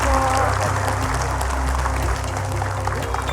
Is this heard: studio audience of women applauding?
yes